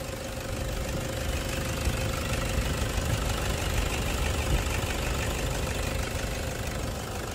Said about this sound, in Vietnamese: đây là tiếng động cơ đang hoạt động, máy dầu.